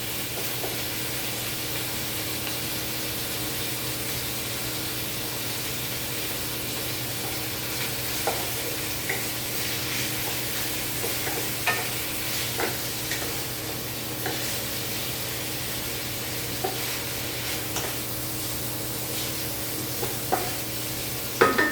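Saluyot leaves and bamboo shoots stir-fry in a pan with a steady, dense sizzle and scattered light clicks and scrapes from stirring, continuous throughout with no talking.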